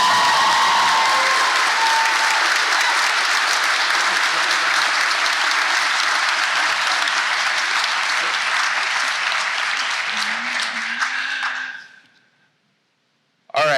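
An audience at a law school honors and awards ceremony gives a long, full round of applause, steady and loud for about eleven seconds before thinning and fading to silence, followed by a brief new sound at the very end.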